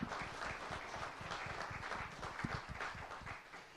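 An audience at a political luncheon claps steadily throughout, a dense patter of many hands that stays loud and even from start to finish.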